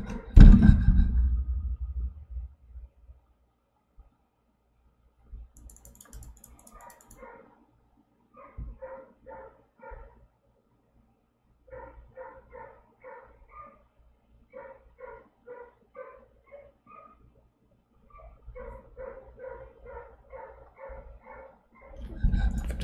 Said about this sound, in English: The dogs are very annoying.